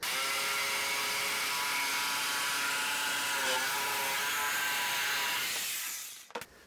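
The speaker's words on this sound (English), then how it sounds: "We're gonna cut that out with a jigsaw." A cheap $30 jigsaw with a $10 blade cutting an opening in a bathroom vanity cabinet, heard as a steady, loud motor whine running for several seconds before it stops abruptly.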